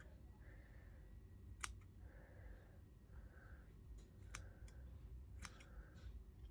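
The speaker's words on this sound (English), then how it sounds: "All you need to do is cut up your Pom Pom." Scissors snip through a fluffy pom pom for slime, several sharp close clicks spaced irregularly, with soft rustling between cuts in a quiet room.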